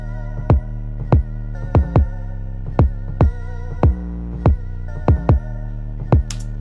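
A programmed drum pattern with ghost notes built in Studio One, a steady beat of deep kick-like hits with quieter in-between strikes and sustained low tones underneath, evenly spaced across the whole stretch, with no voices.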